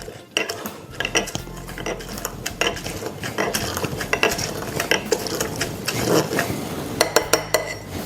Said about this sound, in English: You got to muddle it up.